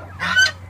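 A single short honking squawk from turkey and chicken chicks kept together in a brooder, loud and close, lasting under a second against a faint steady hum.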